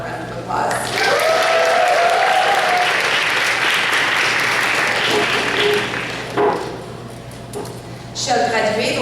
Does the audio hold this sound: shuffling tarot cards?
no